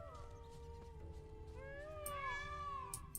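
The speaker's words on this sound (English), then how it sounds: "Guessing it's the peacocks, but they sound like cats." Peacocks in the video game The Witcher 3 give cat-like wailing meows, several drawn-out rising and falling calls over a steady low game background hum, moderately distant.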